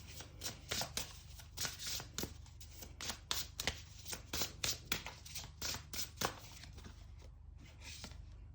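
Tarot cards being drawn and handled, giving a steady run of soft flicks, taps and slides close by. A low hum sits underneath, with no talking.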